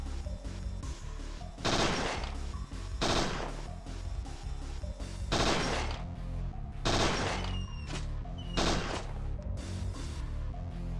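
Bursts of automatic gunfire from the video game Parasite Eve 2, several loud rapid volleys separated by short pauses, set over a continuous game soundtrack with no talking.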